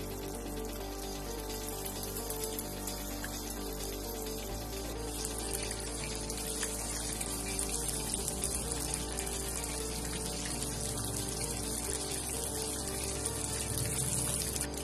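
Battered fish pieces sizzle steadily in hot reheated oil for a crisp second fry, a dense, continuous hiss and crackle that stays even and close throughout with no voices.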